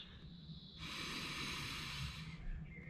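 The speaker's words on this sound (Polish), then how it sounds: "Wdech i wydech przez nos." Nasal breathing during a stretching exercise, a steady airy inhale-exhale rush through the nose that swells after a quiet start and fades near the end, close and fairly soft with no talk.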